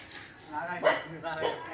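A dog barks in a few short, sharp bursts close by, each bark clipped and sudden, spaced roughly evenly across a moment of commotion.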